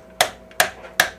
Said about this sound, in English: I think I have a knife that can cut through these.